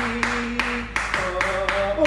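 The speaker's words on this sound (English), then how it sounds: "Oh, clapping." Children clapping at a school in Ghana, about six sharp claps spaced in an uneven rhythm, each set against a sustained musical tone and voices.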